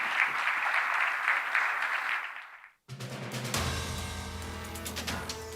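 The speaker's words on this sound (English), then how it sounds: "A round of applause for the Minister." Audience applause for a government minister at the close of a business event, a sustained burst of clapping that cuts off abruptly partway through and gives way to music.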